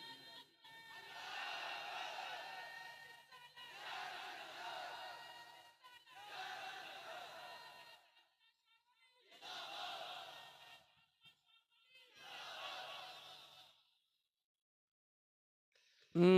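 A crowd at a naat gathering roars the Takbir response in five long, swelling waves separated by short pauses, faint and somewhat distant.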